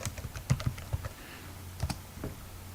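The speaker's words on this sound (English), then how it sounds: "When it says Find Site, you can just type in Birdville" Fingers tap out a short burst of keystrokes on a computer keyboard, close, light and irregular clicks with a brief pause before a final few presses.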